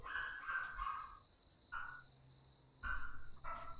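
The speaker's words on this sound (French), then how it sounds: "Et Antoine, dis-moi si on entend le chien." A dog in The Walking Dead video game gives short yips and whimpering barks in several separate bursts, moderately loud over a steady faint tone, with no talking.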